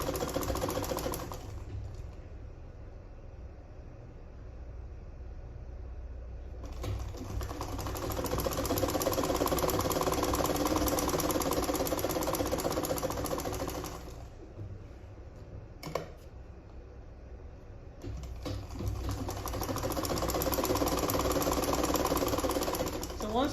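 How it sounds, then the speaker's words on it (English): A sewing machine stitches a sleeveless gown in two long steady runs of fast, even whirring and needle clatter, separated by a short pause, with someone talking over and between the sewing. "You place it down and then you start sewing."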